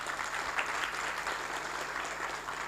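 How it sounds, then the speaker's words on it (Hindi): Steady applause from a theatre audience follows a stage play, a dense wash of clapping that holds at an even level throughout without any voices standing out. "आपकी तालियाँ कह रही हैं।"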